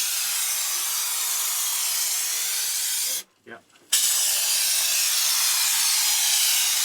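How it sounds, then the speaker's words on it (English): Steady, loud aerosol hiss of a Great Stuff spray foam can held upside down, sealing cracks and leaks, cut by a brief pause of about half a second before the continuous spray resumes. "he seals the cracks and obvious leak spots, keeping the can upside down while spraying."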